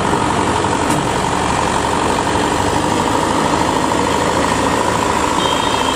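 A Kubota DC93 combine harvester drives onto a river ferry alongside a tractor; a steady engine drone runs beneath a continuous high warning tone, with no voices.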